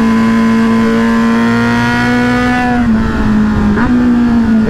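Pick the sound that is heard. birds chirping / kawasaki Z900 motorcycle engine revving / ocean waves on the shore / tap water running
kawasaki Z900 motorcycle engine revving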